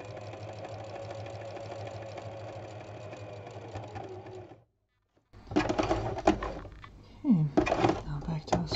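A sewing machine stitches free-motion cut-work embroidery and thread lace at a steady, even hum for about four and a half seconds, then stops; after a short silence, talking and handling sounds follow.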